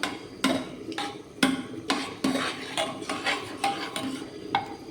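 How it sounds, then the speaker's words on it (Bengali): A ladle stirs khichdi inside a pressure cooker, making repeated sharp metallic scrapes and knocks against the pot in an uneven rhythm, close and fairly loud, with no talking. "এবার প্রেসারটা একটু হালকা হাতা দিয়ে এটাকে পুরোটার মধ্যে মিক্স করে দিই"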